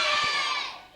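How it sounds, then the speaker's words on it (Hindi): Children cheering and shouting together at an Akshaya Tritiya religious festival gathering, a loud burst of crowd voices that fades over about a second. "सभी बच्चे जयकारा लगाएंगे।"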